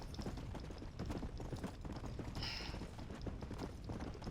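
Horse hooves clip-clopping in a quick, steady galloping rhythm as the horse runs off in Red Dead Redemption: Undead Nightmare, fairly faint under background game ambience.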